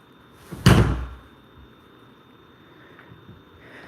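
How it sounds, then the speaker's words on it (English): A single muffled thud of a room door pushed shut, a soft impact near the start fading quickly into quiet room tone. "it is impossible to slam this door"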